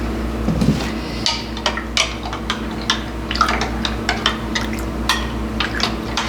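A spoon stirs a probiotic yogurt mixture in a container, producing irregular light clinks and taps against the sides over a low steady hum.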